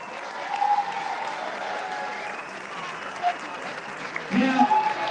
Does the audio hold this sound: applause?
yes